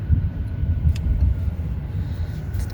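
A small car rolls steadily along a waterside road through Conimicut Point Park in Warwick, Rhode Island, its low engine and tire rumble continuous and close, with no voices.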